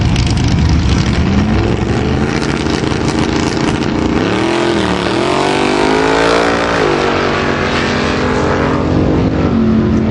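At a drag strip, a 1974 Chevy Nova and a 1940 Chevy Rat Rod pickup race, their engines roaring loud and continuous, with rising and falling revving pitch sweeps as they accelerate past.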